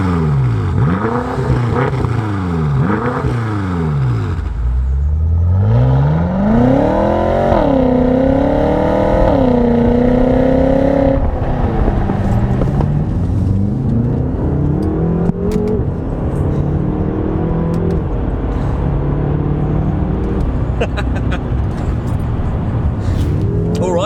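A BMW M5 saloon car drives off, its engine rising and falling through several loud revving pulls and gear changes, then settling into a steady cruising drone with road and tyre noise.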